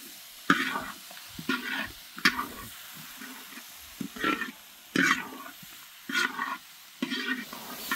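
A spoon stirs radish fry with crushed garlic in a pan, giving a series of scraping, shuffling strokes roughly once a second over a low sizzle, close up and without talk.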